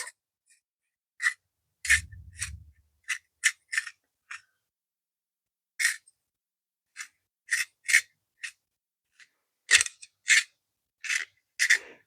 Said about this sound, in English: when you sharpen them, you should turn the pencil sharpener, not the pencil